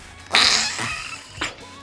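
Squishy slime gives off two wet, farting squelches as it is played with, the first longer and louder, the second a short burst, close and alone without talk.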